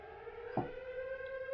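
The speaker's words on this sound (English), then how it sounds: "you can hear the siren going off" Alarm tower siren in an Unreal Engine 5 game demo, a steady sustained wail with a strong tonal hum held throughout, fairly quiet, with a short thump midway.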